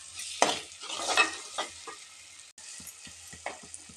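Ground tomato paste fries with spices such as coriander and cumin powder in oil for an okra masala, a soft sizzle broken by several scraping stirs of a spoon against the pan.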